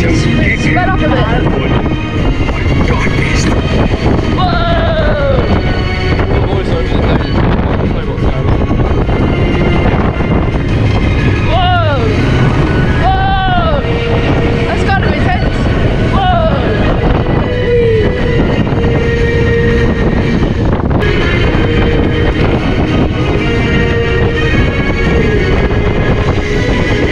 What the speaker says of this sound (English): We're on the powered coaster, the onboard audio.